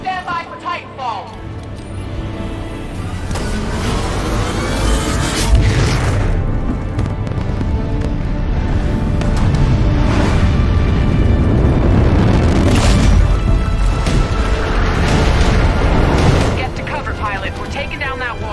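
Heavy booming impacts and explosive bursts from a Titan landing amid an airbase battle in Titanfall 2, loud rumbling crashes layered with gunfire and radio chatter over a sustained roar.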